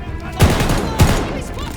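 Machine gun fire in the Call of Duty: Vanguard video game, two loud heavy bursts about half a second apart with rumbling tails, amid battlefield noise and voices.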